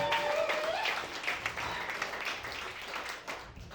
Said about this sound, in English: big applause for all the comics you've seen tonight